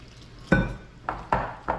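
Corn tortilla dough is mixed by hand in a bowl, giving four sharp knocks and scrapes against the bowl spaced irregularly over a quiet background, close and fairly crisp.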